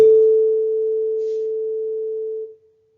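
A metal object vibrating at its resonant frequency gives a single steady pure ringing tone that holds evenly for about two and a half seconds, then cuts off quickly into silence.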